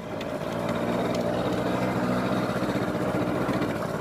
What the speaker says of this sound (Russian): Смотрите, я еду на каком-то мопеде, видите, в прекрасном месте.